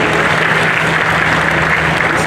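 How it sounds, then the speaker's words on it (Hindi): Loud, dense applause from a large ceremony audience at the 83rd Indian Roads Congress in Raipur, Chhattisgarh, welcoming invited guests; the clapping stays steady and full throughout with no talk over it. "तालियां जोरदार बजनी चाहिए।"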